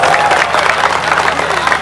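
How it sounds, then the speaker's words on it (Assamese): Students clap together at a silver jubilee flag hoisting at Moulana Azad High School, a dense, continuous burst of crowd applause, close and loud. "ছাত্ৰ ছাত্ৰীসকল ডাঙৰকৈ হাত চাপৰি বজাবৰ কাৰণে মই আহ্বান কৰিছোঁ"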